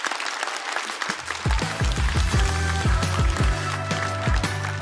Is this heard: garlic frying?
no